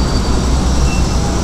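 Passenger train of economy premium and executive coaches hauled by a CC 204 diesel locomotive rolling past, a steady loud rumble with continuous low-end wheel and engine noise throughout.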